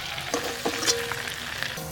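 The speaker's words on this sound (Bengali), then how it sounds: "আমার মাছ ভাজা হয়ে গেছে।" Fish fries in hot oil in a village kitchen, a close, steady sizzle with brief bursts of crackling and a few stirring sounds.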